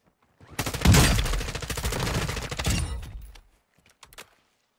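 Gunfire in a first-person shooter video game: a dense burst of rapid, overlapping shots lasting a few seconds, loud and close, followed by a couple of faint, brief pops.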